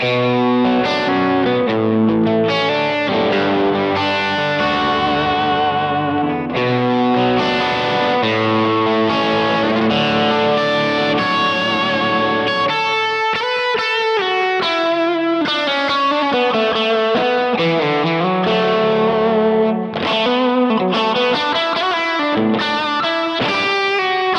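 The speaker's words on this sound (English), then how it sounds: "throw a little tube screamer in front of it, then we get our lead sound" An electric guitar through a Kemper with a Tube Screamer overdrive and boosted mid-range plays a continuous singing lead line, sustained notes and quick runs with a warm distorted tone, loud and unaccompanied by voices.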